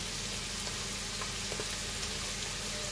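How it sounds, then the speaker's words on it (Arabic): Mushrooms with soy sauce sizzle in a pan while being stirred, a continuous soft crackling fry with faint utensil touches. "هنفضل نقلب عشان المشروم يفضل يعمل تكتكه كده"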